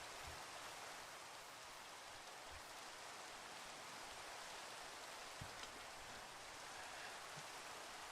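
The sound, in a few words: rain falling in the video game Minecraft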